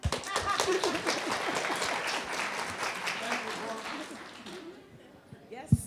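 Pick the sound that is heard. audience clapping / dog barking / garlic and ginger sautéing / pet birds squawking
audience clapping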